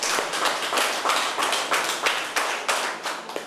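Close, lively hand clapping from a group at an eye camp, a steady rhythmic patter of claps with brief swells, nothing else heard.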